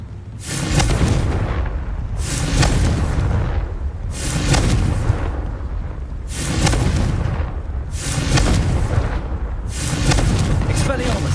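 Confringo spell explosions in a Harry Potter video game, six loud blasts about two seconds apart, each a sharp burst followed by a rumbling decay.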